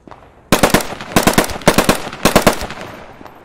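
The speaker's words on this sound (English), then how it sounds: "Hearing fire from the direction of the yellow windmill." Machine gun fire in the WWII shooter Post Scriptum: several loud, close bursts of rapid automatic shots with short pauses between them, then a fading tail.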